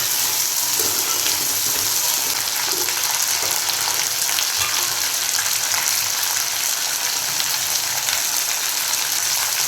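Sundaikai (turkey berry) being stir-fried in a pan for kuzhambu, a steady loud sizzle and crackle of frying with light stirring scrapes, continuous and close.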